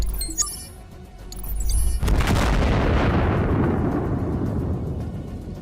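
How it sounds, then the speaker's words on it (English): A Russian tank strikes a mine and erupts in a loud blast, a sudden boom followed by a long rumbling roar that slowly fades, after a few faint metallic clinks. "The tank hits a mine, and where the Abrams and Leopard would have torn off the tracks, the Russian tank turns into a ball of fire"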